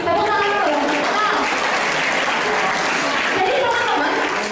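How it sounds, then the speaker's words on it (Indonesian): An audience at a motivational session claps steadily, with tonal voice or music sounds mixed in at the beginning and end. "Tepuk tangan dulu ya."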